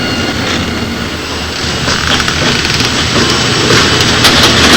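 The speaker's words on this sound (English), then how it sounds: "As the train comes into the yard," A train rolls into a rail yard at Asheville, North Carolina, a loud continuous rumble and rush of wheels and engine close by, steady and slightly building, with no talk.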